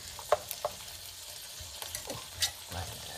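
Large prawns sizzle and fry in a pan as they brown, a faint crackle with a few small spatters and stirring sounds close by.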